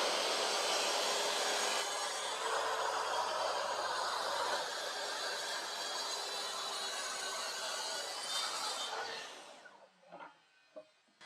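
Saw cutting through a wooden stair tread for a straight stair step, a loud steady whining cut lasting about nine seconds before the blade winds down into quiet with a few faint knocks.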